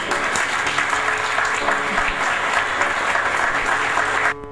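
Sustained applause from an audience at a book inauguration ceremony in Dina, Jhelum District, steady dense clapping that holds at full strength before cutting off near the end.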